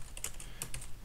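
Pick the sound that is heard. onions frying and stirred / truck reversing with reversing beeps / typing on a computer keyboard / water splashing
typing on a computer keyboard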